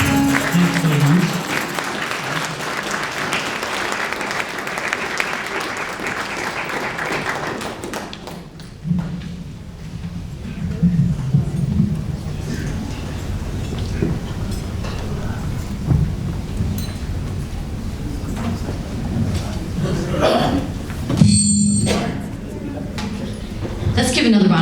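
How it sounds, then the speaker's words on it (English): Audience applause rolls through a hall at a Muslim arts awards ceremony right after a Turkish-language music performance, a broad sustained clapping wash that fades into a host talking over lingering claps. "Let's give another round of applause."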